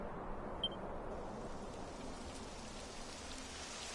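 Steady rain falling in Dragon Quest XI, a dense even hiss of drops that holds at one level throughout, with no voices.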